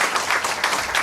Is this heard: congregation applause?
yes